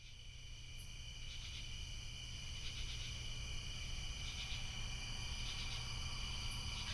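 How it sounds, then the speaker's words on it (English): Steady night chorus of crickets with continuous high, pulsing chirps, a quiet outdoor scene after rain with a low constant background hum. "The crickets began chirping again, breaking the skin-crawling quiet."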